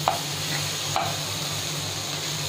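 Vegetables frying in a pan for wheat noodles, a continuous close sizzle with two light scrapes of a stirring utensil near the start and middle.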